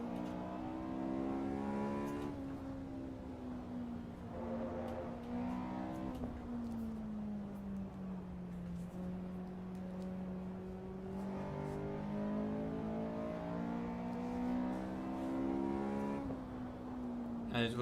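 Race car engine in the Assetto Corsa Evo racing game, revving steadily through gear changes with a sustained harmonic drone, rising and falling pitch and no pauses.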